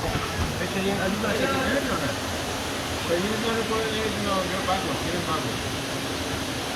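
Waterfall inside a cave: a constant broadband rush of falling water fills the space evenly, with people talking over it.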